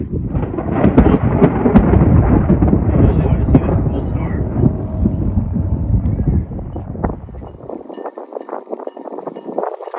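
Heavy thunderstorm at Daytona Beach in Florida, heard aboard a sailboat, with a loud, continuous roar of rumbling thunder and wind buffeting the microphone. It eases toward the end into a lighter, crackling patter of rain.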